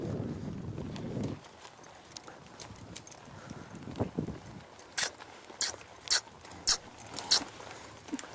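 A horse's hooves walking on a hard surface, a steady, regular clip-clop of sharp, fairly close hoof strikes growing louder and more distinct, with a brief low rumble at the start.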